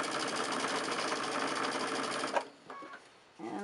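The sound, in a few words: sewing machine stitching quilt squares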